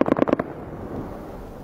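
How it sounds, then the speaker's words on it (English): Bombs from an air strike in Afghanistan go off as a quick run of four or five sharp, loud blasts in the first half-second, then a low rumbling tail fades out. "That was our bombs."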